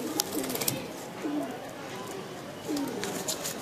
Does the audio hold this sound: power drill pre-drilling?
no